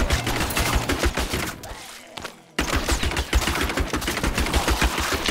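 Rapid attack shots fire in Diablo 3, a dense, fast stream of sharp impacts that breaks off briefly for about half a second, then resumes just as quickly and loudly.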